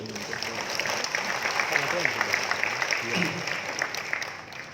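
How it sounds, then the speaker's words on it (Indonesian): Steady applause from a crowd at the opening ceremony of a Muslim fashion festival, a dense wash of clapping that holds at an even level throughout, with some voices mixed in. "Tepuk tangan dulu."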